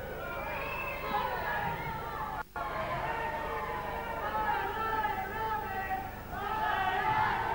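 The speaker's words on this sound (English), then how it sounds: "You probably hear the crowd are saying a lot of rubbish." A crowd at a tag-team professional wrestling bout shouts and chatters continuously. Overlapping voices rise and fall in a loud, close hubbub throughout.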